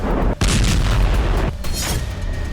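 Explosions from Ukrainian strikes on Russian territory, including an ammunition depot in Voronezh, boom in rapid succession, loud and close, with heavy low rumbling between blasts.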